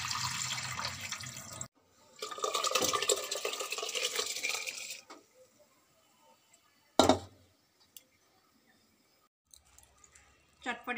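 Water runs and splashes as vegetables are rinsed clean of insects in a kitchen, with bursts of running water broken by pauses and a short splash later on.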